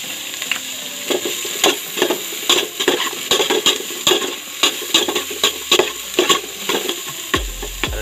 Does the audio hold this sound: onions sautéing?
yes